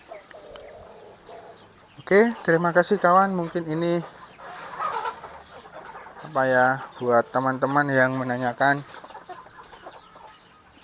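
Free-range village chickens in a galvanized battery cage cluck in two loud bursts, with someone talking quietly before and around them.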